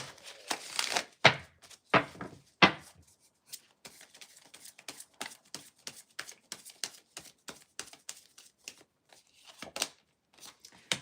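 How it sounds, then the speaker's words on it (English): Tarot cards being shuffled, a dense run of papery riffles and slaps packed tightly in the first few seconds, then thinning into lighter, scattered card flicks and taps, close and fairly quiet with no voice. "I'm going to shuffle again because that was way too many cards"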